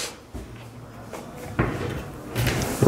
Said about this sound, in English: I'm gonna open so you can see the spaces from here, the drawers.